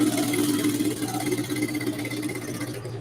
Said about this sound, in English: Now we are going to sew the pocket.